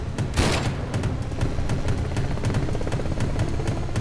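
A sniper rifle shot fired at a Bell 206 helicopter heading west, one sharp crack near the start, then steady rotor and engine drone with a rapid repeating beat running through to the end.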